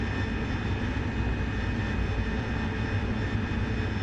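An AV-8B Harrier jet engine at full throttle in the DCS World combat flight game gives a steady, loud, broadband roar that holds without a break for the whole clip, with no voices over it.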